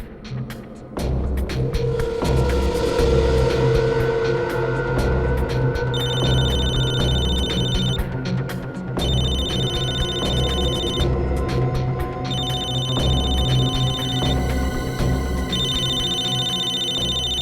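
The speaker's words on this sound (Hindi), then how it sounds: "दया इसके मोबाइल पे क्यों फोन कर रहा है?" A mobile phone rings in a crime-drama scene, its electronic ringtone repeating in regular bursts over a steady bed of background music for the whole stretch.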